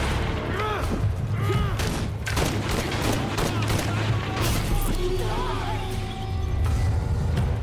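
Rapid bursts of gunfire from firefights in Shadow of the Tomb Raider, loud and dense shots repeating throughout with booming impacts, mixed with game voices and effects.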